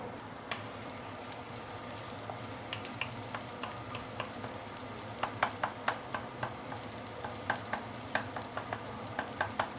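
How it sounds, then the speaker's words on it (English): Garlic and shallots sauteing in hot oil for mee goreng mamak, a steady close sizzle broken by scattered sharp clicks and scrapes of stirring that grow more frequent toward the end, with no voices. "Once the oil is heated up, we can put in the garlic and also shallot. Let's saute it a bit before we continue."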